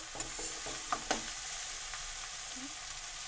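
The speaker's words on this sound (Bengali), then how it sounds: "ভালো করে কষাবো" Masala with pumpkin sautés in a pan, a constant soft sizzle broken by several spoon scrapes and knocks early on, close and fairly quiet.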